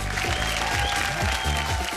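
An audience claps loudly and continuously to welcome the judges on a televised Bhojpuri reality show stage, dense applause filling the whole stretch without pause, with music underneath.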